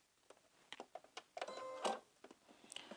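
Sewing machine stitching a skirt hem: a few soft clicks from turning the hand wheel, then a short whirring stitching burst, with quiet taps before and after, close and faint.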